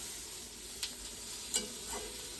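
An egg omelette frying in a pan, a steady close hiss of sizzling oil with a few brief stirring scrapes over it, no voices.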